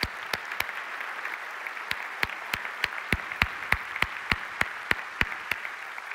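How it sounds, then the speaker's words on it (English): A seated audience at a legislative session applauds the state Senate President with a spread of individual claps. The claps are sparse at first and then settle into a steady pattern without cheering. "Can we have another round of applause for the Senate President?"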